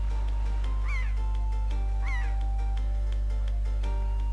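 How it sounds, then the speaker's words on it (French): In The Legend of Zelda: The Wind Waker, a controlled bird flies while its rising squawking calls sound twice over a constant low game hum, with faint clicks scattered throughout and no talk. "On peut maîtriser un oiseau qu'on va faire voler."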